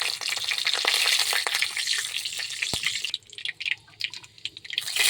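Black cumin seeds and two bay leaves frying in hot oil in a heated wok, giving a close, steady crackling sizzle with scattered pops that thins out and turns sparser partway through.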